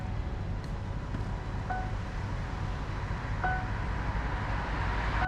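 Strong wind buffets the microphone while someone cycles with a DIY bicycle camper, making a low, rumbling roar that stays fairly quiet and continuous, with a few faint tonal blips.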